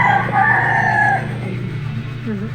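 A rooster crows in a long, strained call over a steady low hum, then the sound trails off into quieter background noise.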